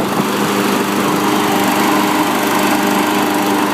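A John Deere JS26 self-propelled push mower runs steadily close by, its small engine giving a loud, continuous buzzing drone with no break and no talk.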